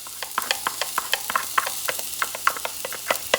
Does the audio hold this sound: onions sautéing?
yes